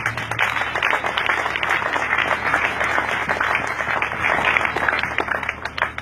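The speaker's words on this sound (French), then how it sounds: "Je vous demanderai d'acclamer le Seigneur." A church congregation bursts into sustained applause acclaiming the Lord, a loud, dense wash of clapping hands that carries steadily throughout with no speech over it.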